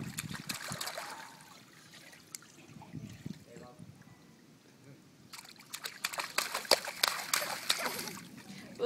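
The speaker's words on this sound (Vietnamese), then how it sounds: "Bây giờ ta vung vẩy nước đi như lúc nãy đi." A small child splashes and flicks water in a bath or tub at play, giving irregular nearby splatters and trickles with quiet gaps, while adults talk over it.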